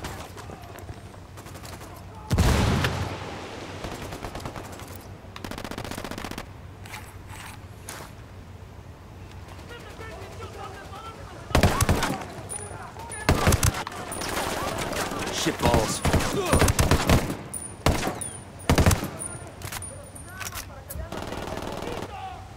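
Gunfire in the video game Ghost Recon Wildlands: repeated loud bursts of automatic fire and single shots break out in clusters across a steady background, with a voice heard between the volleys.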